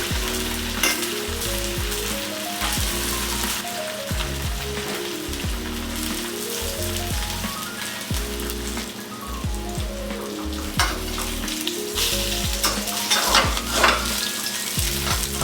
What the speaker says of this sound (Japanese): 油のパチパチとする音が収まってきたら表になる部分を先に抜きます。